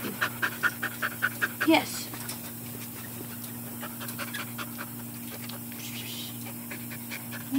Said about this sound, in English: She is a 9 month old dog.